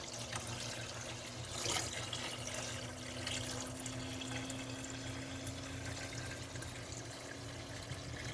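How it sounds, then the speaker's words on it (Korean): Clear malt water (yeotgireum) is gently poured off a settled batch, giving a faint, steady, close trickle of liquid with a slight swell in the middle. "위에 맑은 물만 따라가지고"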